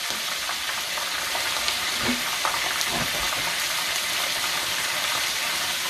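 Steady, loud sizzling of seafood frying in hot oil, with lobster, shrimp and crab legs cooking; a continuous crackling hiss with a couple of faint clinks, no talking.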